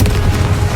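A Confringo explosion spell in Hogwarts Legacy, a short, loud, close boom with a fiery rush and deep low-end rumble.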